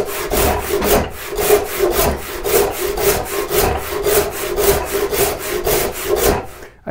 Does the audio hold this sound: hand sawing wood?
yes